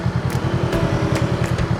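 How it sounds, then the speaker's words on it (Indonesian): A motorcycle engine idles up close while being parked at Kampung Rimba in Cisarua, Puncak Bogor, with a steady low throb of rapid, even pulses and no talking. "Parkir motor ke atas ya."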